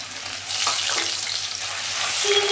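Ginger paste hits hot ghee in a wok and crackles into a bright, steady frying sizzle that starts abruptly and holds close and loud to the end.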